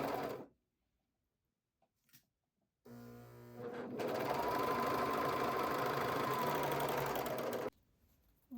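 A serger stitches bralette fabric darts, whirring in a short start, then a steady run of several seconds before stopping, close by in a quiet room.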